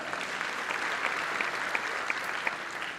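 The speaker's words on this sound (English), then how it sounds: "We'll clap for them too." An audience at an Air Force jazz band concert claps for the Coast Guard, a steady, fairly soft patter of many hands with a few louder claps popping out at regular intervals.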